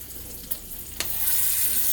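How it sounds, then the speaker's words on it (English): Oxtails sizzling in hot oil, a steady hiss that swells louder after a couple of soft clinks, close up with no voices. "You hear that sizzle?"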